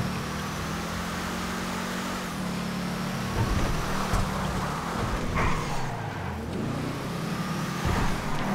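A Declasse Tahoma Coupé in GTA V drives and drifts with a steady engine drone whose pitch rises and falls as it revs and slides, loud and continuous with no talk.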